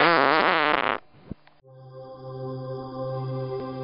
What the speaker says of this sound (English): You'll learn the art of the fart.